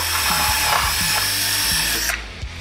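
A power drill whirs steadily at high speed, bit grinding through wood, then the motor cuts off near the end.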